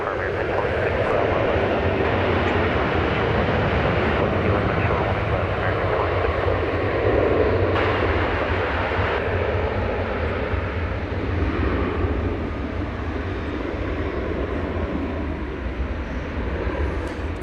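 An American Airlines airliner departs DFW Airport bound for San Francisco, its engines a steady, loud broadband roar that holds throughout with little change, with faint radio chatter underneath.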